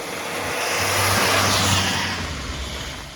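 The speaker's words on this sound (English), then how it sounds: "I was up against cars passing by me on a wet road." A car passes close by on a wet road, its tyres throwing up a loud, searing hiss that swells to a peak mid-way and fades again, with an engine rumble underneath and no voices.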